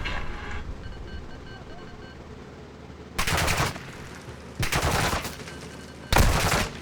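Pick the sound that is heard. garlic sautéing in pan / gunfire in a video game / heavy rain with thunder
gunfire in a video game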